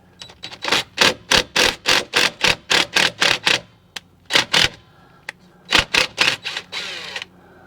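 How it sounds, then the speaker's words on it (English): Two 10mm bolts being removed on a 2006 Lexus RX330 during rear strut work, heard as crisp rapid clicking in quick rhythmic runs with brief pauses between bursts, close and loud with no talk. "All right, we got two 10mm bolts to remove from here."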